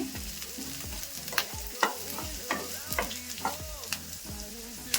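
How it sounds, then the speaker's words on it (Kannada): Cinnamon with cloves and pepper fries in oil for sambar, a continuous close sizzle punctuated by a series of sharp spatula taps and scrapes against the pan. "ಒಂದು ಸ್ವಲ್ಪ ಚಕ್ಕೆ ಹಾಕೊತಾ ಇದ್ದೀನಿ ಇವಾಗ ಇದನ್ನ ಫ್ರೈ ಮಾಡ್ಕೊಂಡ್ಬಿಡ್ತೀನಿ"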